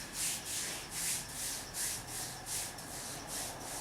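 Hands rubbing liniment into a shin for kung fu conditioning, a close, soft swishing rub repeated in a steady back-and-forth rhythm about twice a second.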